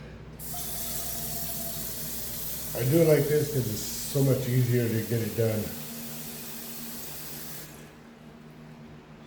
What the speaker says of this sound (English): Start my water.